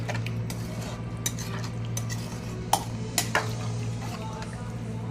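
Rice goes into a cooking pot for mushroom biryani and is stirred with a metal spoon. Soft scraping and several sharp clinks of utensil against the pot sound over a low steady hum and faint bubbling.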